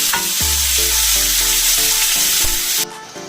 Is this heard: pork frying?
yes